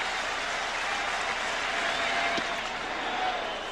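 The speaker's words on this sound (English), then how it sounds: "Fans applauding for a strikeout." Baseball crowd at a 1998 Orioles at Yankees game applauding a strikeout: a steady, diffuse wash of clapping and crowd noise holds at moderate level for the whole span.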